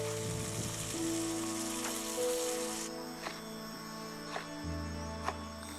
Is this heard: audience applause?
no